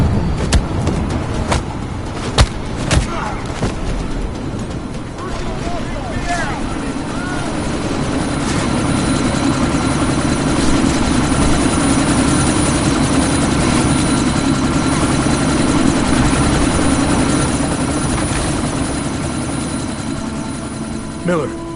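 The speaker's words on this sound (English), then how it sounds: "That chopper's about to take off!" Helicopter engine in the video game Deus Ex: Mankind Divided on PS4, a continuous rotor-and-turbine drone that swells louder through the middle, with sharp in-game impacts early on.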